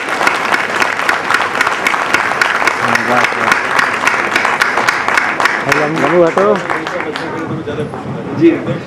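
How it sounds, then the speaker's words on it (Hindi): An audience applauds to welcome a guest at a family gathering of a community trust in Gorakhpur, with steady loud clapping throughout and voices talking and calling out over it in the second half. "तालियों से स्वागत कीजिए।"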